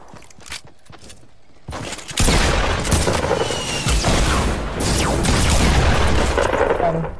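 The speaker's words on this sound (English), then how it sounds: "shoot your RPG" RPG fired in a Fortnite Battle Royale match: scattered clicks and taps, then a sudden loud blast that swells into sustained roaring explosion and debris noise lasting several seconds.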